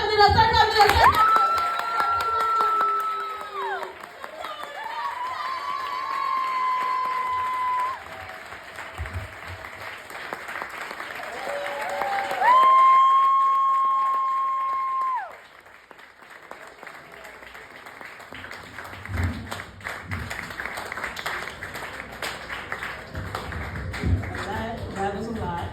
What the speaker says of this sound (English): start clapping it up, start clapping it up, start clapping it up